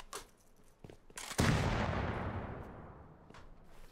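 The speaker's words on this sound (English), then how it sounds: "That was the scientist with grenades" A grenade explosion in the game Rust: a few faint thuds and clicks, then one loud, close blast that decays into a long rumbling tail.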